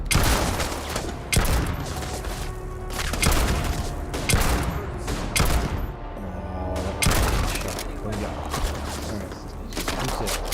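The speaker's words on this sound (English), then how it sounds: "That robot is ripping those machine guns." A robot firing machine guns in the video game Starfield, loud sustained bursts of automatic fire with booming impacts repeating throughout.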